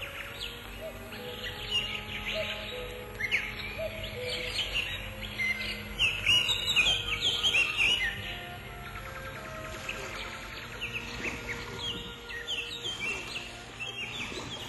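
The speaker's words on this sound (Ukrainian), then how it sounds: "Де ще почуєш такий концерт пташиної симфонії?" Several birds chirp and sing together in a lively outdoor chorus at Lake Svitiaz, Ukraine, with bright twittering calls rising in the middle.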